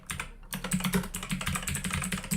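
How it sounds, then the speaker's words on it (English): Rapid typing on a computer keyboard, close and loud, with dense uneven clacks of keys continuing steadily throughout and no voice. "My keyboard's like twice as loud as my voice"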